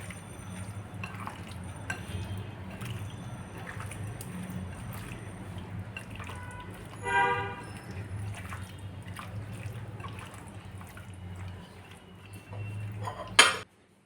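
Chicken shashlik marinade with soy sauce is stirred in a bowl, making a quiet, continuous wet mixing sound over a low hum, with a brief clatter midway and a sharp spoon clink near the end.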